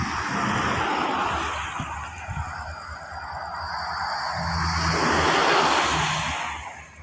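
A Hitachi diesel locomotive engine, number 4504, roars steadily and swells louder toward the end as it hauls an express train, with a broad rushing noise and a low rumbling throb beneath.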